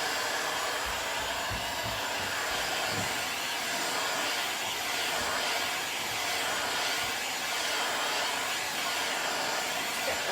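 A heat gun blows hot air steadily over crackle finish paint, a loud, continuous close-up roar that holds level throughout with no voices over it.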